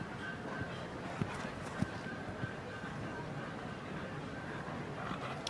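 Horse hooves clip-clop faintly on the ground of a show ring at a large agricultural show, scattered light hoofbeats under a steady outdoor crowd murmur with distant voices.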